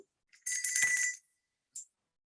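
A small bell rings once with a bright shimmering tone that fades within a second, followed by a brief, softer second ding.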